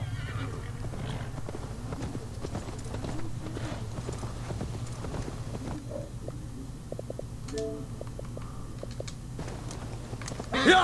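A horse moves along in Assassin's Creed Valhalla with soft rhythmic hoof clip-clops and a brief whinny. These sit over a steady low game ambience, and faint keyboard-like clicks can be heard in the background.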